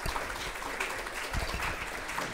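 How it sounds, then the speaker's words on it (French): Audience applause at a French talk event, a steady dense patter of clapping filling the short stretch at even loudness, with no voices over it. "On peut l'applaudir."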